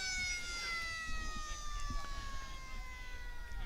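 The three-quarter time siren sounds at a Perth Football League A Grade match between Fremantle C.B.C and Scarborough, a long sustained wailing tone carried over crowd noise while a commentator talks.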